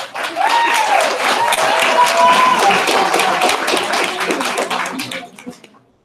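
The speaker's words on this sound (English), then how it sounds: "give a big round of applause for Cedar, Robert, and Adrian." Loud, sustained applause from the crowd at an annual poetry slam as the next performers are announced, steady clapping mixed with a few voices and cheers, tapering off near the end.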